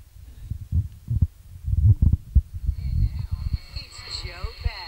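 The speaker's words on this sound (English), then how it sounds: "I'll just tune around here and see what we can get." A vintage crystal radio played through a small amplifier is tuned across stations, giving low thumping static and hum that give way to whistling heterodyne tones and faint sweeping signals near the end.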